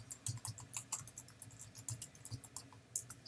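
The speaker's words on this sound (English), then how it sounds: "and then I type in" Rapid typing on a computer keyboard while writing a blog post, a steady run of close, crisp key clicks with no talk.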